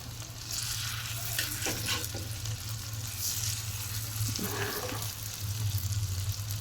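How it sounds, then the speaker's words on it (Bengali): Chicken kebab frying in soybean oil, a steady close sizzle with occasional stirring scrapes and light clatter. "এখন আমি ভাজতেছি খুব সুন্দরভাবে।"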